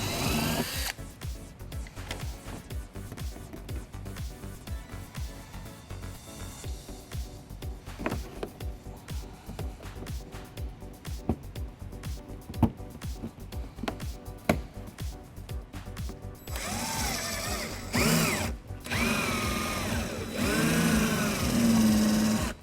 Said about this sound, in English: we're going to drill out the center of it using a small drill bit